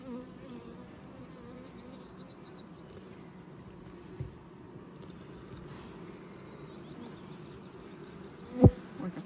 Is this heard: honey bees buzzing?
yes